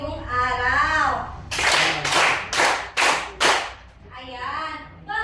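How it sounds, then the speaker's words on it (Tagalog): Five sharp, loud group claps in a steady rhythm from a classroom of students, with a teacher speaking before and after them. "Maaari niyo bang bigyan ng iyong mga sarili ng 5 palakpak"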